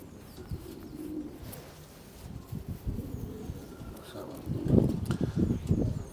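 Racing pigeons coo in a loft, low soft throaty calls rising in a louder cluster toward the end over a busy, rustling background.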